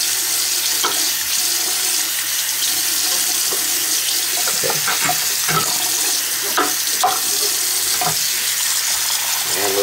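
Hot water pouring from a tap into a sink while paracord is washed with soap, a steady loud rushing stream with occasional splashes and knocks over it.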